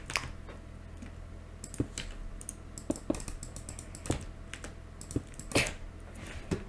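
Someone types on a computer keyboard that has a missing control key, producing a quiet, irregular patter of close key clicks over a low background hum.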